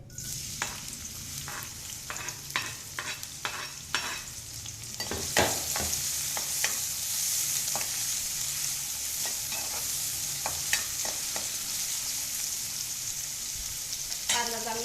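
Chopped onion fries in a pan with a steady hiss, while a spatula scrapes and taps in irregular strokes, close and fairly loud throughout.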